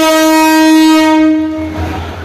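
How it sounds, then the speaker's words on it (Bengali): Train sounding its horn at a railway station in heavy rain, a loud sustained tonal blast that fades after about a second and a half into rumbling rail noise and the hiss of rain. "এই ট্রেন টঙ্গিতে গেছেছে এখন ঢাকার দিকে যাবে"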